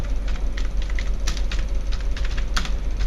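Fingers type on a computer keyboard during a voucher entry lesson at a computer institute, a close, continuous run of quick key clicks with a few louder taps.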